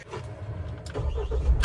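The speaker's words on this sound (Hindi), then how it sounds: "अब भाई जो गाड़ी स्टार्ट कर लिया है" A Mahindra Thar's engine cranks and catches at close range, a low rumble building after a few brief clicks and whirs, fairly quiet overall.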